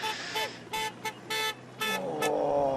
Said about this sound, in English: the cars, you can hear them on the horn desperately trying to get out of the way